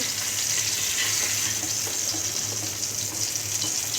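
Eggplant slices fry in a pan with a steady, close sizzle and bubbling hiss that runs unbroken, with no talking.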